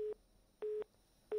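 A telephone busy tone follows a disconnected call, three evenly spaced steady beeps, quiet and alone with silence between them.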